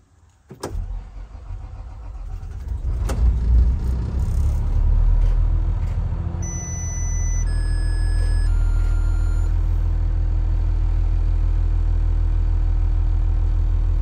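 An engine cranks and catches with a sharp burst, then settles into a steady, loud idle rumble that holds to the end.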